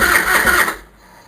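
A Harley-Davidson Fat Boy motorcycle engine cold cranking and catching with a loud, rough burst, then cutting out into near silence after under a second.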